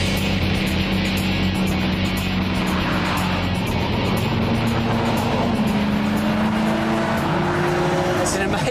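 Bugatti EB110 sports car on a racetrack, its engine roaring loud and close as it revs up and down through the gears, with rising and falling pitch sweeps and a brief tire squeal.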